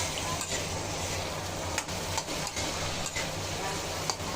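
Bitter gourd bhaji being stirred in a pan, a steady frying hiss broken by several soft scraping strokes and light clicks of the spoon, close and fairly quiet, with no talking.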